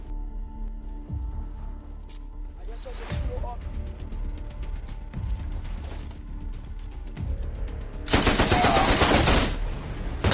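Film soldiers return fire on a sniper, with dense mechanical clatter, scattered sharp shots and a louder, sustained roar of gunfire near the end.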